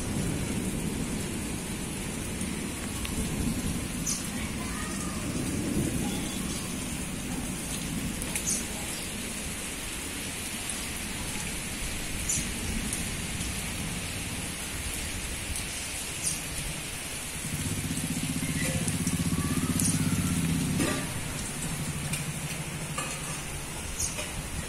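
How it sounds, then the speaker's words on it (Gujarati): Heavy rain falls steadily in Khambhaliya, India, with a continuous broad hiss and patter and a low rumble of thunder swelling toward the end, no voices. "ગાજવીજ સાથે વરસાદ ચાલુ છે ફૂલ"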